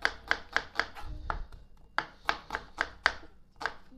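An onion is chopped with a knife on a board, about a dozen crisp, sharp knocks in quick bursts with a short pause partway through, close and clear with no talking.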